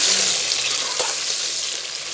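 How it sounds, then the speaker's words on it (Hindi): Steady, loud sizzling of potatoes frying in hot oil, with a brief stir partway through. "2 से 3 मिनट हमने आलू को फ्राई करना है"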